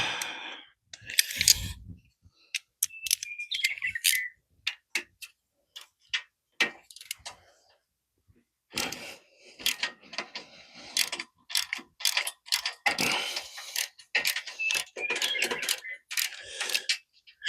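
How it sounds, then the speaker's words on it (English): A ratchet wrench clicks in quick, close runs of tight ratcheting, broken by short pauses, while a 10 mm fastener comes off a 1993 Plymouth Warrior. "Ratchet 30."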